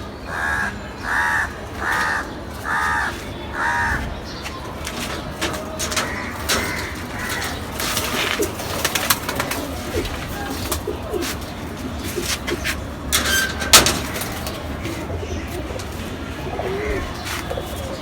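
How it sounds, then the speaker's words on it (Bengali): Pigeons coo in a series of soft, rhythmic calls at the start, then crows caw loudly and repeatedly over an outdoor bird chorus. "এই যে এই কবুতরটা আমাকে লালবাগের গুড্ডু আমার বন্ধু মানুষ আমাকে গিফট করছিল"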